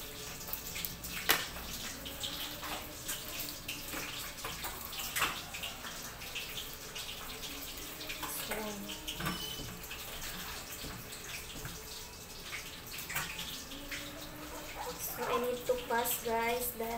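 Kitchen tap water runs while shrimp are cleaned: a quiet, steady splashing stream throughout, with faint voices in the background.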